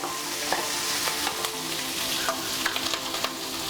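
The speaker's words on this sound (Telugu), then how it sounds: "మనం మీడియం ఫ్లేమ్ మీద పెట్టుకుని ఫ్రై చేసుకోవాలి." Onions frying over a medium flame for a spicy onion chutney: a continuous close sizzle with a spoon scraping and stirring the pan, plus scattered sharp pops, and nobody speaking.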